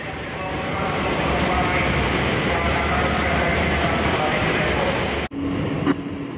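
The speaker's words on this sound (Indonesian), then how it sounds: "Ini mulai berjalan keretanya dan sampai di Bekasi Barat." Interior of an LRT commuter train pulling away, a steady loud rumble of wheels and motor that holds for about five seconds, then a sudden drop in noise followed by a brief clunk.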